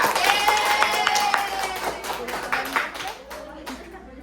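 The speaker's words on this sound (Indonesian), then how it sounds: "kita beri tepuk tangan untuk kelompok Aca" A classroom of eighth-grade students gives a short round of applause for a presenting group, moderately loud scattered clapping with a voice speaking over it, fading toward the end.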